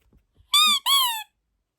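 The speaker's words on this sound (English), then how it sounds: "We have this fake rat that like my mom puts in my room to like scare me into thinking there's a rat in my room" Fake toy rat squeaked by hand, two loud, high-pitched squeaks in quick succession, close and clear, with near silence around them.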